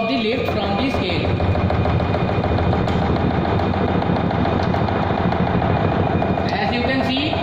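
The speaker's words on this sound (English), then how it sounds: "it is not having the proper foundation, so that's why it is having vibration more" A governor apparatus running at speed on an improper foundation, giving a continuous loud rattling mechanical vibration with a steady droning hum throughout.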